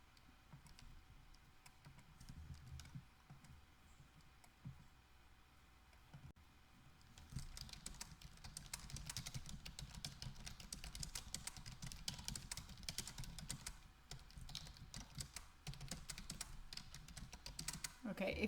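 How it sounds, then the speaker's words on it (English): Fingers tap out a math expression on a computer keyboard in quick irregular bursts of clicks. The typing starts faint and grows busier after the first few seconds, close but quiet. "Let me type this one."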